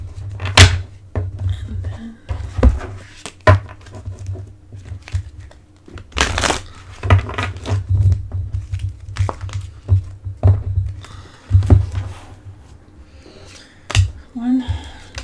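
Tarot cards being shuffled by hand, a series of close, crisp riffling and snapping bursts with soft papery rustles between them, repeating irregularly throughout with no talking.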